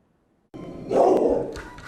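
Dogs at a crowded animal shelter bark and yip together in a noisy, reverberant burst that starts abruptly and swells, holding at a loud, busy level to the end.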